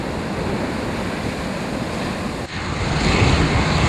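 Ocean surf waves break at Tent Reef off Saba in the Caribbean, a continuous rushing wash mixed with wind noise that swells louder toward the end.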